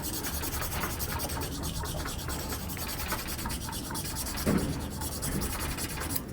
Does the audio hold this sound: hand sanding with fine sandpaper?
yes